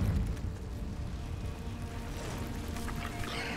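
A Confringo explosive spell blast in the video game Hogwarts Legacy, cast inside a cave: a dense, booming rumble that hits hard at the start and lingers as a steady roaring wash.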